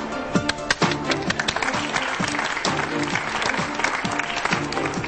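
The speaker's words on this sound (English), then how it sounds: "David Inwood doesn't have to applaud himself, does he?" Studio audience at an Oldham Council Question Time event clapping steadily for the host, a dense sustained round of applause lasting the whole stretch with a few louder individual claps near the start.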